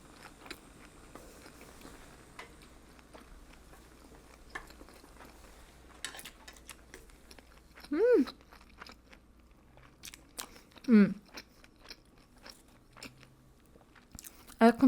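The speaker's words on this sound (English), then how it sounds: "so let's take a bite." Someone bites into a spicy tuna sushi roll made with fire noodle sauce and pickled ginger on the side. Three crisp, close bites break a quiet room, each followed by soft chewing.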